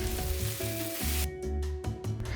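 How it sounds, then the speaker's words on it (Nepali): Green chili and ginger-garlic paste sizzle steadily in a hot pan as they are stirred, a close continuous frying hiss with brief scraping stir strokes toward the end, no voices. "अब हरियो खुर्सानी, अदुवा लसुनको पेस्ट राखेर चलाउनुस्"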